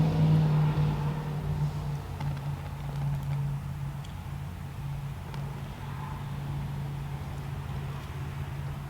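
An electric fan blows wind at a Zippo emergency fire kit, making a steady low rumbling whoosh that is moderately loud and constant throughout, with no talk.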